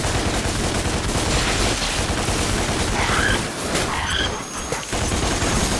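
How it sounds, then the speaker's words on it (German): Ebony and Ivory pistols fired in DmC: Devil May Cry, dense rapid bursts of gunfire blending with game effects and explosions, loud and nearly continuous with brief dips. "Ich weiß, dass man mit X schießen kann."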